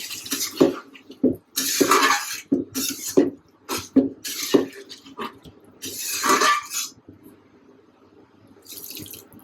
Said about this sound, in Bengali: এখানে এখন পরিমাণ মতো জল দিয়ে দিব।